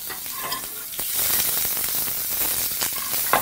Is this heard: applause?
no